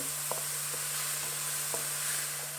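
Tomatoes sauté in a pan with a soft, steady sizzle and a few faint scrapes of stirring, close but quiet under a constant background hum.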